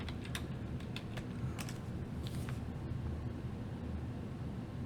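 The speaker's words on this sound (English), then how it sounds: "Let me type something else here." Keystrokes on a computer keyboard tap in short irregular bursts over a steady low hum and background hiss, with no talking.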